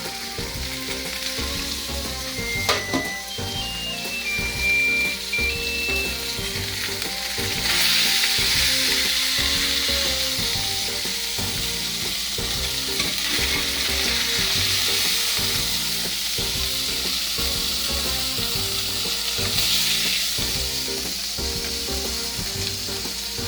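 Teriyaki honey tuna steaks with soy sauce fry in a pan, a steady close sizzle with bubbling and crackle running throughout, loud and continuous with no talking.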